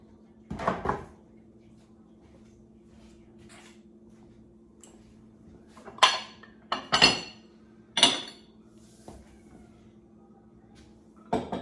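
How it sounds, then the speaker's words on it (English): A small copper pot is handled and set down in a vintage farmhouse kitchen. There is one clank early on, then a quick run of three sharp metallic knocks and clinks against a hard surface, with quiet gaps between. "A little copper pot."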